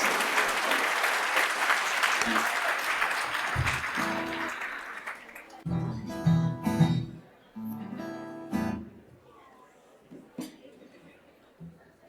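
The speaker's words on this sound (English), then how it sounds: "Please give a hand to Dos Mundos and a big round of applause" An audience applauds a performing group, Dos Mundos, at a Latino community event: dense, steady clapping for about four seconds that then thins into scattered claps and fades, with a voice speaking over the quieter tail.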